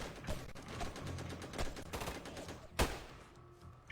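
Rapid gunfire in a tactical shooter video game: a dense, crackling stream of sharp shots, with one especially loud, close crack near the end.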